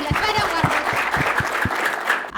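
Audience at a children's TV program applauding, with a dense patter of hand claps underpinned by a steady rhythmic beat of unison claps, close and lively throughout.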